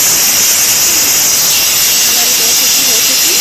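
A pressure cooker of dal lets off steam after its whistles, a loud, steady broadband hiss that runs unbroken from start to finish.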